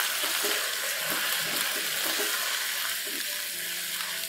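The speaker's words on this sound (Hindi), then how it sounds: "चिकन डाल देंगे और चिकन को भून लेंगे इसके साथ" Chicken browning in a pan with fried onions and ginger-garlic paste, a steady, dense sizzle with faint stirring scrapes running continuously and close, no voices.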